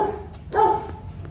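A golden H'mông bobtail dog and a fluffy white Bắc Hà dog produce a single short, moderately loud bark or yip, with quiet background noise around it.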